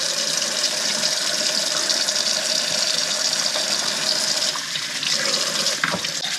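Water from a kitchen tap runs steadily into a sink as potatoes are scrubbed. The rushing is loud and close, with light clunks near the end and no talking.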